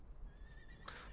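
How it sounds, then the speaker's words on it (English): Many horses neighing together in the fantasy game Reverse: 1999, a distant, echoing chorus of whinnies that swells briefly near the end of a short burst. "The sound of dozens of horses neighing at once echoes from somewhere far away."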